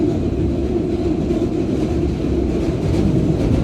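Steady ride ambience aboard a train: a loud, continuous low rumble and roar with no breaks or voices.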